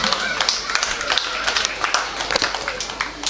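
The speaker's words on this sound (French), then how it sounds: "Prière, les applaudir" Applause from a school audience at a gathering, quick overlapping hand claps close by, continuous and fairly loud for a few seconds with faint voices underneath.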